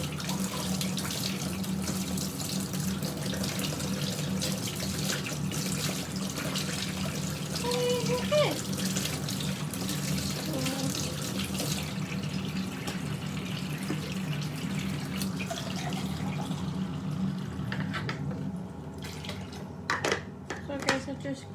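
A tap runs hot water steadily into a sink for a long stretch, a constant close rushing stream with occasional clinks of items nearby, easing off near the end while someone talks over it.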